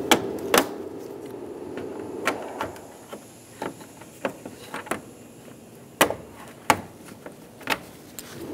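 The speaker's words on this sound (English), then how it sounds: "Using a pair of clip removal pliers, remove the 6 clips for the top of the grille." Clip removal pliers pop plastic grille clips free on a 2010-2014 Subaru Outback front bumper, giving a series of sharp, close snaps spaced irregularly apart, with quieter handling noise between them.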